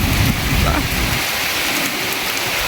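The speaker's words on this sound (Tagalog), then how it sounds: "Yan guys, ang lakas ng ulan, ang lakas ng ulan." Heavy rain pours down steadily as a dense, loud, continuous wash of noise close by, with a brief murmur of voice near the start.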